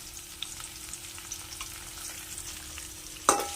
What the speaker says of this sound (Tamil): எண்ணெயிலேயே வெங்காயம் நல்லா கோல்டன் ப்ரௌனாக வதங்கி வரட்டும்